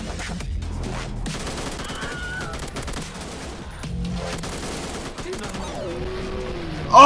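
A golden AK fires in a video game in rapid bursts of shots over loud game music, with a voice talking over the action and a sharp burst at the very end.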